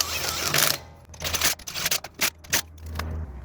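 Impact tool spinning lug nuts down onto a Toyota Tacoma front wheel during a brake pad and rotor job, several short close whirring bursts separated by brief pauses.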